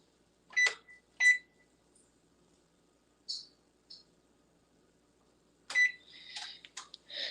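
Electronic oven control beeps as the oven is set to preheat to 400 degrees, with two short tones, a pause, two fainter blips, then a quicker cluster of beeps, close and clear in a quiet kitchen.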